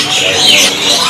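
Common myna (Hong Kong starling) calling inside a songbird shop, a short, loud burst of bright chattering whistles amid steady shop noise, with a voice faintly underneath.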